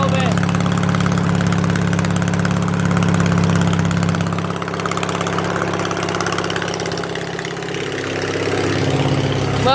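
An old lawn mower engine idles steadily as it warms up, a continuous loud low chugging hum with a slight dip and recovery in level partway through.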